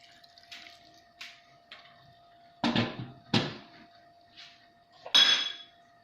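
Water poured into a pot of Moroccan couscous during cooking, with a brief splashing pour and a few clinks of dishes and pots in a quiet kitchen, close by and without talk.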